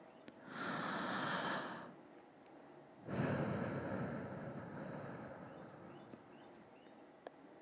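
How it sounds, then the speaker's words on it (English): A deep, slow breath during a guided meditation, one long airy inhale followed by a pause and then a fuller, drawn-out exhale, close and soft, with faint clicks afterward. "Let's take a deep breath."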